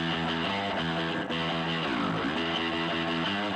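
A music excerpt recorded on analog tape plays alone, with warm, slightly gritty sustained tones.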